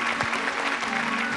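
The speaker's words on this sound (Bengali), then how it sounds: "আর ওনাদের জন্য জোরে হাততালি প্লিজ।" An audience in a televised singing competition studio claps loudly and continuously, a dense steady applause throughout with no one speaking.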